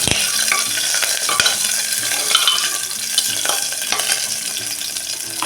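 Curry leaves and a bay leaf sauté in hot oil in a pan for garlic- and onion-free spiced masale rice, Narsobawadi style, with a steady close sizzle and the scrape and clatter of stirring throughout.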